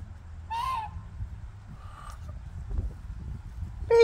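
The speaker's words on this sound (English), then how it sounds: "Here comes the geese." Geese and ducks outdoors on a fall day: a few separate honking calls, one early and another sharp one at the end, over low rumbling background noise, moderately close.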